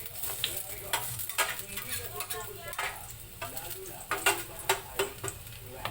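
Garlic sizzles in a home frying pan, a steady crackling hiss broken by repeated scraping strokes of a spatula stirring, close and fairly quiet.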